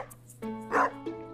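A dog in the Stardew Valley farming game gives a few short, close yips and barks over a steady low background hum, with no one talking.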